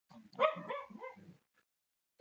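Dogs bark in a quick, close burst of several yips and woofs lasting about a second, then quiet.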